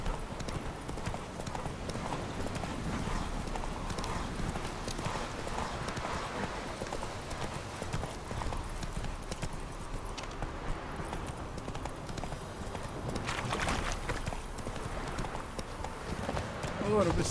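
Horse hooves clip-clop steadily at a walking pace in The Witcher 3 video game, rhythmic and fairly close, with a person talking over the game sounds.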